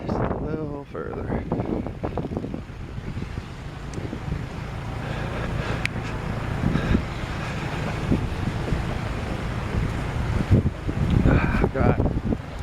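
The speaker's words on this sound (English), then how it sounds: "Windy." Strong, steady wind roars across the microphone during a heavy blizzard in Washington DC, a continuous loud rush and buffeting that persists the whole time, with a few faint voices underneath.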